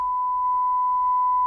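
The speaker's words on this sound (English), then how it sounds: "It's a nice clean sine wave." A steady sine-wave test tone plays through a Loewe-Opta Truxa Stereo 4741W tube radio under restoration, a single pure unbroken beep-like note held at even loudness, clean and alone with no talking.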